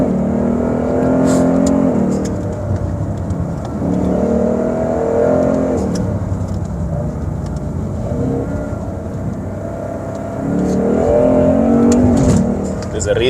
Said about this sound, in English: Let's listen to the Ford Mustang.